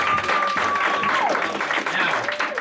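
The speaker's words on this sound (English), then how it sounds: "Give him a round of applause, guys." Applause and cheering from an anime convention audience at a quiz game show, steady and fairly loud throughout, with a faint tone and some voices mixed in.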